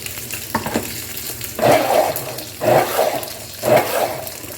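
Chicken sizzles in a pan after water is added for steamed chicken, while a spoon stirs it in three rhythmic scraping bursts over the constant frying hiss.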